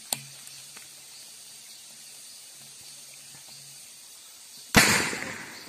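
A bamboo cannon fueled with spirits fires in a rice field: after a quiet stretch with a few faint taps, one sharp, loud booming blast rings out and fades with a lingering rumble.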